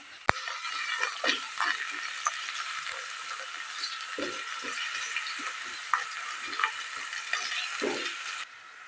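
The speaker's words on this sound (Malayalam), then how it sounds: "അത് നന്നായിട്ടൊന്ന് വഴണ്ടി വരുന്ന സമയത്ത് ഒരു വലിയ ഉള്ളിയും കുറച്ച് കറിവേപ്പിലയും കൂടി ഇട്ട് കൊടുക്കാം" Garlic, onion and curry leaves sauté in hot oil in a pan for a mushroom and drumstick masala, giving a close, continuous sizzle broken by repeated spoon-stirring scrapes and clicks, with no talking.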